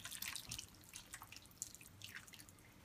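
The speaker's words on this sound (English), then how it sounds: "300 ml of boiling water." Boiling water is poured into a pan of corn and tomato pasta sauce, a faint, close liquid splashing and trickling that lasts a few seconds.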